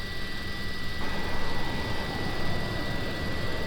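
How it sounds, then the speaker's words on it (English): Avro Vulcan jet engines in a flight simulator, a loud continuous whine and rumble with a steady high tone; partway through, part of the noise drops away as the engines begin shutting down. "We'll open up the entrance door momentarily and we'll shut down the engines"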